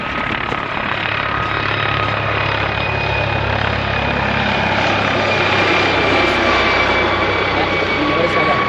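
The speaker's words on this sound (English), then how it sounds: "You notice how that helicopter doesn't have a tail prop?" A helicopter without a tail rotor flies low overhead and appears to come in to land near a hiking trail on a very hot day, its steady loud rotor and engine roar filling the whole stretch continuously.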